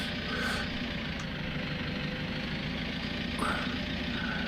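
A farm tractor engine idling steadily nearby, a continuous low rumble with no speech over it.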